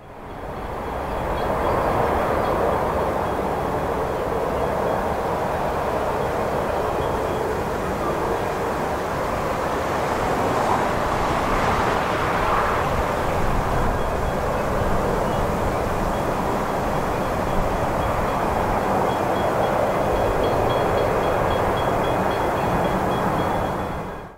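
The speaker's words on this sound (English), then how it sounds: "This 2-car Seymour-bound Sprinter departs at 7:57." A two-car V/Line Sprinter diesel railcar departing Heathcote Junction station toward Seymour, its engine rumble swelling and holding steady as it pulls away, loud and continuous with no voices.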